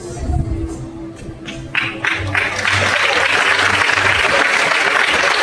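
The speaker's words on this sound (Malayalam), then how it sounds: "ചെയ്യുമ്പോൾ മാത്രം ഒരു പ്രത്യേകതരം കൈയടിയുടെ ഓളം ഉണ്ട്" Hands clap in a swelling round of applause from a crowd, starting with scattered claps and a voice, then building to dense, steady clapping that fills the space.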